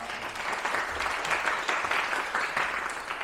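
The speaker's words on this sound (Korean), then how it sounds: "큰 박수 부탁드리겠습니다" Sustained audience applause at an award ceremony for a university business-school scholarship, dense and steady clapping filling the room for several seconds with no talk over it.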